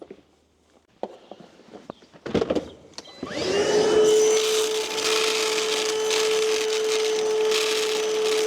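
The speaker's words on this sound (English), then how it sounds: "I'm gonna grab my shop vac here" A shop vac starts up after some handling knocks and runs steadily with a whining drone, vacuuming out an electric meter housing, close and loud with no talk.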